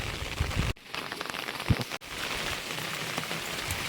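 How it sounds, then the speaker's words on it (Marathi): Heavy monsoon rain pours down steadily close by at a well-side fishing spot, a dense continuous hiss with two brief dips, and no voices. "खूप जोरात पाऊस आहे, मुसळधार पाऊस नाही आहे."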